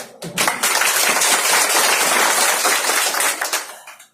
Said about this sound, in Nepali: फेरि यहाँको लागि एक जोरदार ताली